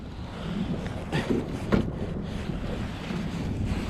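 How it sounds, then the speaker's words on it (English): Strong wind buffets the microphone at a steam plant fishing spot in a steady, rough low rumble, with a few louder gusts in the middle and no voices. "Brutally windy."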